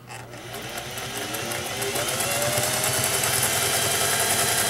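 A vintage Singer 401A Slant-O-Matic sewing machine stitching at steady speed, a close, continuous mechanical whir and rapid needle chatter that builds slightly then holds constant, with no talking.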